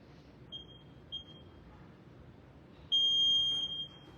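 A few short electronic beeps, then a longer, louder beep tone, from a timer in a quiet room.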